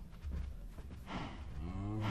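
A Minecraft cow lets out a short low moo near the end, following a brief burst of game noise and shuffling, fairly close and with nobody talking.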